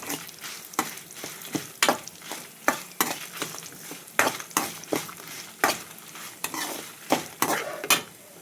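Food stirred while frying in coconut oil in a home kitchen pan, a steady sizzle broken by repeated sharp scrapes and clinks of a spoon against the pan, close and fairly loud, with no talking.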